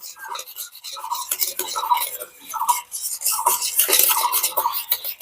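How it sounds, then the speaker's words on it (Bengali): Mango pulp thickened with cornflour being stirred steadily in a pan over low heat for homemade aamsatta, a repeated scraping and clinking of spoon against pan, moderately loud, with no talking. "এবার এই সমস্ত কিছু খুব ভালো করে মিশিয়ে নিতে হবে"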